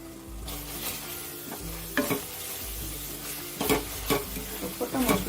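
Spices and Kashmiri red chili powder sauté in hot oil for a whole cauliflower roast, with a steady sizzle and repeated scraping spoon strokes stirring the pan close by.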